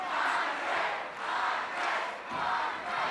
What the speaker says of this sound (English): we hear the chant that I'm sure we were going to hear sometime during the match